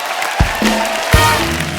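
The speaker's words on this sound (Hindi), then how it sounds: "एक बार संजीव जी, कुणाल जी और रणवीर जी के लिए जोरदार ताली हो जाए।" Studio audience applause on a Hindi comedy talk show set, a continuous wash of clapping throughout the short stretch, with a couple of sharp thumps standing out.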